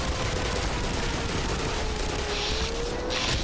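Gunfire in the video game Black Mesa during a surface battle: dense, continuous rattling bursts of automatic fire, loud and sustained throughout with no pause.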